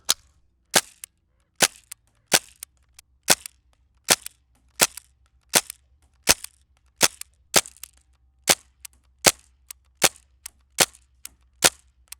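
An airsoft gun firing a series of test shots, about fifteen sharp cracking pops at a steady rhythm of roughly one per second, each clean and isolated against near silence.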